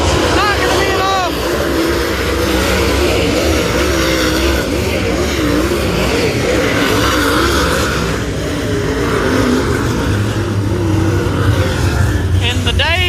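Super Late Model race cars roaring around 191 Speedway during the FireCracker 40, with loud engine drone and passing whines under excited commentary and crowd noise.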